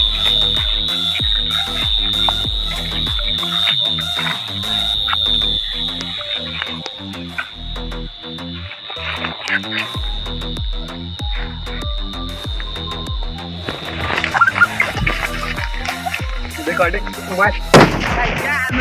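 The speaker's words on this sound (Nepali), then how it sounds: "गाइज यो बमलाई हामी फोड्छौँ यहाँ" A sharp, loud sutli bomb firecracker blast bursts out near the end after a stretch of steady rhythmic background noise and a thin high tone.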